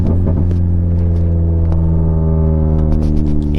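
Renault Sandero RS engine droning steadily with low rumble while driving on a flat test street behind a workshop, close and loud with a slight rise in revs.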